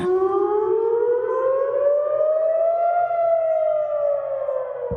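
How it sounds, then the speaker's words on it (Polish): Air raid civil defense sirens wail over Jerusalem and Tel Aviv, one loud sustained tone slowly rising then falling, steady and alone with no voices. "Syreny alarmowe słychać było m.in. w Jerozolimie i Tel Awiwie."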